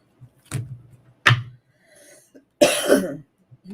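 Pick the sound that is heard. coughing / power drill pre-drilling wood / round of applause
coughing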